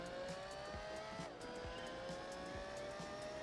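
A race car engine in Gran Turismo 4 holds full throttle, a loud, steady high-pitched drone with a rising tone and faint tire noise, continuous and close throughout.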